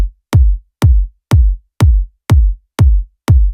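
Layered kick drum for the beat, a clicky top kick blended with a deep low kick, striking eight times in a steady, even rhythm, punchy, loud and isolated.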